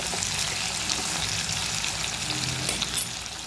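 Bitter gourd and onion pieces fry in a hot pan with a steady, dense sizzle and crackle throughout, close and continuous with a few brief stirring clatters near the end, no voices.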